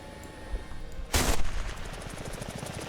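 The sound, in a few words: machine gun firing in a video game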